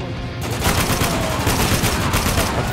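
Heavy sustained machine-gun fire from a mounted turret in the shooter game Spec Ops: The Line, a loud, dense, continuous roar of rapid shots with no talking.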